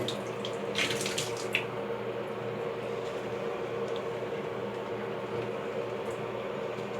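A new shower head sprays water in a steady, continuous hiss and splash, fairly close and unbroken, with brief brighter spattering bursts early on and no talking.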